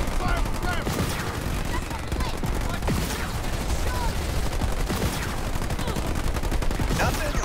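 Sustained battlefield gunfire in Halo Wars 2, dense overlapping shots and automatic bursts firing continuously and loudly throughout, with a voice speaking under the din.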